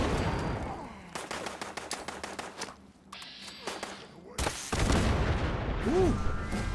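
Rapid automatic gunfire in the video game Fallout 76 from a firing squad, bursts of dense shots followed by a heavy boom and rumbling combat, mixed with voices talking.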